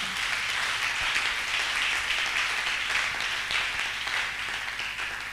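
Church congregation applauding and cheering in praise of the Lord, steady dense clapping with a bright roar of crowd noise, sustained and fairly loud without pause.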